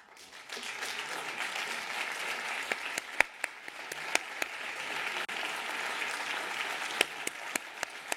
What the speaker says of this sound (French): je demande à tous de vous applaudir pour vous dire merci.